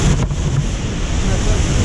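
Water pours steadily into the deep rock basin of the Pailón del Diablo waterfall in Baños, Ecuador, a loud, constant roaring wash with no breaks, heard close and filling the whole scene.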